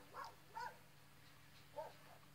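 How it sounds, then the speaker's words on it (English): Dogs bark from across the street near a house under construction, giving three short muffled woofs spaced apart, distant and faint over a quiet room. "And there's dogs barking."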